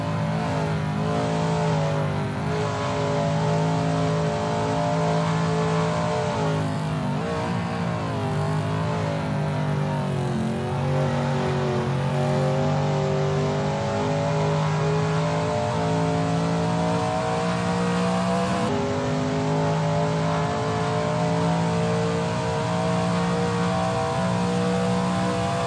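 Shelby Mustang GT350R lapping Willow Springs in a racing video game: a loud, continuous engine drone with a few shifts and small pitch swings, heard alone without talk.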